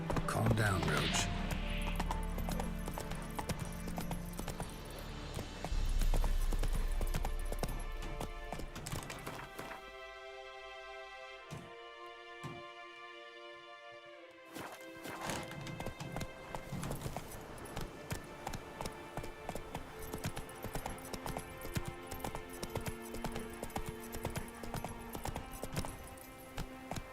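Hooves of Roach, the horse in Witcher 3, clip-clop in a steady rhythm, near and moderately loud, alongside game music and a voice speaking.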